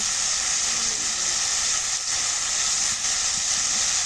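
Spice pastes of garam masala and ginger sizzling in a hot pan while beef cooks, a loud, dense, unbroken hiss with a brief dip partway through, close and without speech.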